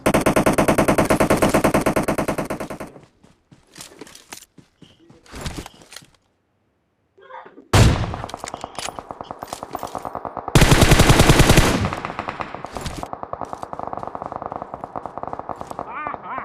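Rapid automatic gunfire in the battle royale game PUBG on the Erangel map, loud sustained bursts of machine-gun fire with short pauses and scattered single shots, while people talk over it.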